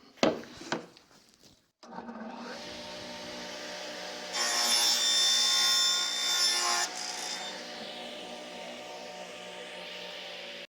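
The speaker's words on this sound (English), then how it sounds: "easiest tool for me here in the shop to do this is the radial arm saw" A radial arm saw spins up in a workshop and cuts through a length of PVC pipe, a loud, steady whining cut of a few seconds, then the motor runs down alone.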